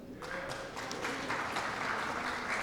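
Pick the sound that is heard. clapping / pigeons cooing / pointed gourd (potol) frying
clapping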